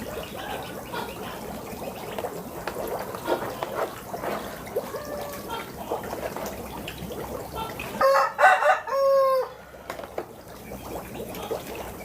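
Backyard chickens clucking in a home livestock setting, a busy low chatter of hens throughout, then a loud rooster crow breaking in near the end, close by.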